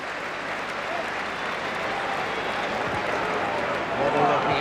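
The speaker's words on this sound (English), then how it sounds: "Appreciative applause from Roker Park's farewell crowd." Football crowd at Roker Park, Sunderland's stadium, in its farewell match, giving steady appreciative applause that builds slightly louder toward the end under a commentator's voice.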